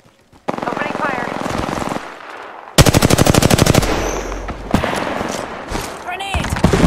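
Rapid automatic weapon fire in the Apex Legends battle royale shooter, loud close bursts separated by brief pauses, with a few heavier thuds and game voice lines heard over the shooting.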